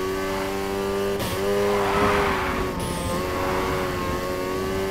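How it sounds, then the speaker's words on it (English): Car drifting in Need for Speed Heat, its engine holding a steady loud rev with harmonic whine, a brief tire-squeal burst partway through, and a continuous slide-and-throttle roar throughout, with no talk. "Next up, let's hit a basic drift. Remember, slam on the gas and steer."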